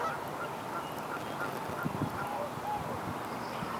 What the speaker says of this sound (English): Geese are over there.